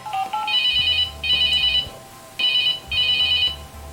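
A CoComelon toy phone rings with bright electronic tones in two pairs of bursts, separated by short gaps, loud and clear with no talking over it.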